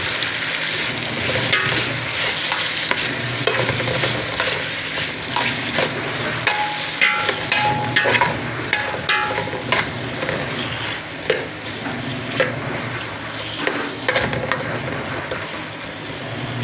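Tomatoes are sautéed in a pan for chicken sinigang, producing a loud, busy sizzle close up with frequent spatula scrapes and clacks in an uneven rhythm and no speech.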